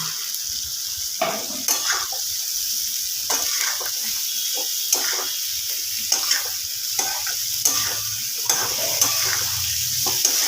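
Potatoes and cauliflower sizzle and fry in a pan, a steady bright hiss broken by regular scraping stirs of a spatula, close and continuous throughout.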